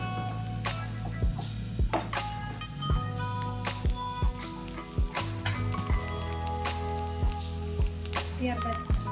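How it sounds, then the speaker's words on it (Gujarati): Pav bhaji masala and chopped coriander stirred into melted, sizzling butter in a pan, with a loud, steady frying hiss broken by regular scraping thumps of the spoon, close up and without any speech. "બટર ઓગળે પછી તેમાં પાઉંભાજીનો મસાલો ઉમેરીશું. કોથમીર નાખીશું. મિક્સ કરી લઈશું."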